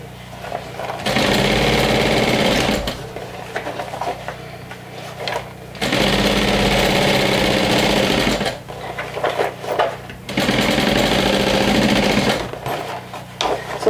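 Stitching around a fold-over clutch, a sewing machine whirs loudly and close in three long runs, with short pauses between them.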